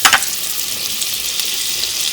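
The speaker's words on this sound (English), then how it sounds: "on a medium-high flame, let the oil heat and add butter" Butter hits hot oil in a pan over a medium-high flame with a sharp burst of sizzle, which settles into a steady, fairly loud frying hiss.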